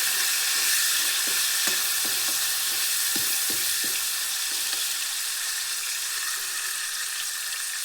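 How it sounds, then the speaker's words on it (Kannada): Curry leaves and green chili frying in hot oil for a tomato gojju, a steady close sizzle with scattered crackles and pops from the stirring, with no talk throughout. "ಕರಿಬೇವು ಸೊಪ್ಪು ಹಾಕ್ತಿದ್ದೀನಿ. ಇದೆರಡು ಚೆನ್ನಾಗಿ ಮಿಕ್ಸ್ ಆಗಲಿ. ಮೆಣಸು ಸ್ವಲ್ಪ ಎಣ್ಣೆಗೆ ಫ್ರೈ ಆಗಲಿ."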